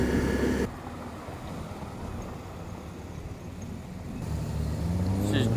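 A big single-turbo BMW M54 engine idles and runs steadily with a low, throaty hum, growing a bit louder toward the end.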